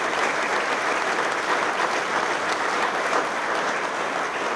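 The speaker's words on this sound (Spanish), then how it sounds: "para quien pido un aplauso" Steady, dense audience applause fills the hall as a homage to the late Alberto González Arzac during a talk on Peronism, loud and unbroken with no voices over it.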